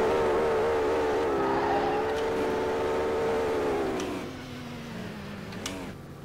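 A droning, buzzy car engine in the video game Street Legal Racing: Redline hums at a steady pitch, then slowly drops lower and quieter, with a few faint clicks near the end.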